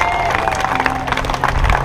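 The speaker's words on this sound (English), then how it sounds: "let's give a round of applause again to the lifeguards." Steady applause and crowd noise from a group outdoors at a pier swim and paddle event in Imperial Beach, continuous and fairly loud, with voices mixed into the clapping.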